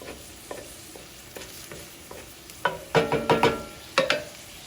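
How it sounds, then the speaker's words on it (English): Ground beef sizzling in a hot frying pan while a utensil scoops it aside, with a soft fry underneath and several sharp scraping, clattering strokes toward the end. "So I'm gonna scoop my ground beef back a little bit and make myself kind of a little reservoir area"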